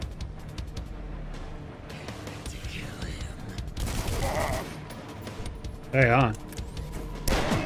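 Enemy gunfire in the shooter game Dusk: scattered shots and bursts under nearby talk, with a louder, denser volley partway through.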